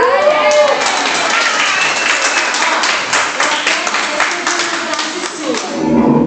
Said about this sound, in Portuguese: eu gostaria de pedir uma salva de palmas para a nossa secretária